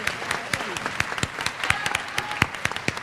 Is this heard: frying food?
no